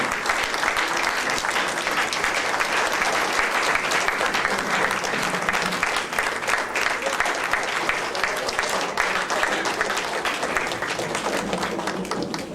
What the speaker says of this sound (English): Please let's give CD another round of applause.